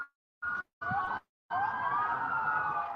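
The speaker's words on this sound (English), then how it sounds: "Sirens blared through the streets of Las Vegas" Emergency vehicle sirens wail through the streets of Las Vegas during a police response to an active shooter, a steady rising and falling tone heard in short bursts and then sustained, with a low rumble of traffic beneath.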